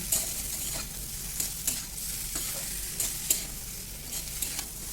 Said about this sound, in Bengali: এবার ফুলকপিটাও আমি এর মধ্যে দিয়ে দেবো দিয়ে ভালো করে আর দু মিনিট মতন আমি ভালো করে কষিয়ে নেব